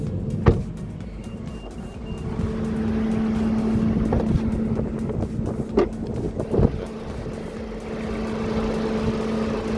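The 1500 cc, 105 PS engine of a 2025 Mitsubishi Xforce Ultimate idles with a faint, steady low hum under wind noise, broken by a few soft knocks and clicks.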